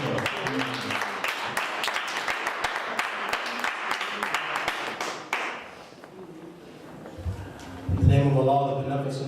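Dense crowd applause rolls steadily for several seconds, then fades out, followed by a voice starting to speak.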